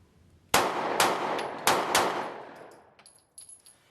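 A Smith & Wesson CSX 9mm pistol fires four sharp, loud shots at close range on a shooting range, in two quick pairs, each crack trailing off in a short echo before faint handling noises.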